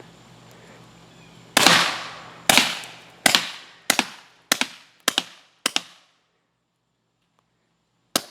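Pepperball launcher fired in riot shield training: seven sharp, loud pops in a slowing sequence, each with a brief ringing tail, then silence and one faint distant pop near the end.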